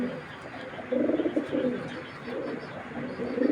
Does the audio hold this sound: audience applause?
no